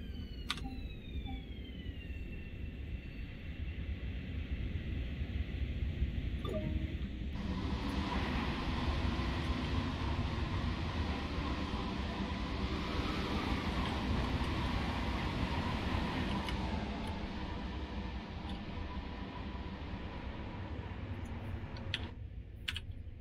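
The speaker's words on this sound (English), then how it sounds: "There was a train whizzing through there, it's on the other side." A train rushes past on the adjacent track in Train Sim World near Jamaica station on the LIRR, a long, steady broadband roar that swells and holds for about fifteen seconds before cutting off, with no talk over it.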